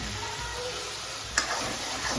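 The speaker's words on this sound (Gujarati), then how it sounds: "જો મીઠો લીમડો બધું નાખી દીધું" Curry leaves crackle in hot tempering oil with mustard seeds, a steady close sizzle broken by a single sharp spattering pop partway through.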